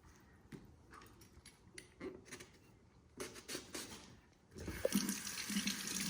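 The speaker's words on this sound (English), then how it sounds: "I'm going to wash it, just rinse it." Food is rinsed under a running kitchen tap: steady faucet water flows throughout, splashing harder and louder toward the end, close by with no talking.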